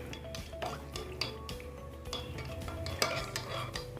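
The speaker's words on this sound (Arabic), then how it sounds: "ونقلب." A utensil stirs and scrapes food in a metal pan while an egg is turned and seasoned with salt and black pepper, producing steady close clinks and scraping with a soft sizzle beneath.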